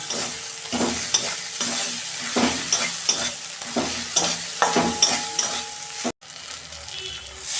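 Ginger garlic paste and green chilies sizzle in a hot pan while being stirred for a pointed gourd and shrimp curry, with rhythmic scraping strokes over a constant fry and a brief pause near the end.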